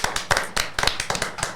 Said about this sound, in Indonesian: Kita beri tepuk tangan untuk Christian Eloko Gonzalez.